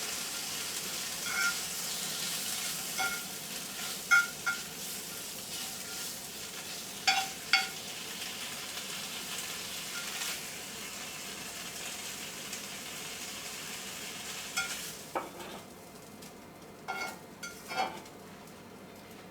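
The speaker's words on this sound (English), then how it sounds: "I'm going to put my ham when it heats a little bit on here." Ham frying in a hot pan for a stuffed breakfast sandwich, a steady faint sizzle throughout with occasional clinks and scrapes of a utensil against the pan.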